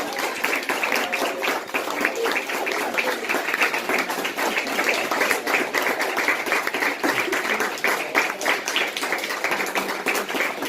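An audience at a runway fashion exhibition opening applauds the models returning to the stage: dense, continuous clapping throughout, fairly loud and even, with no speech on top.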